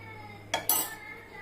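A metal pan set back down on a stovetop while making ginger chutney, giving two quick clanks in close succession over a quiet kitchen hum.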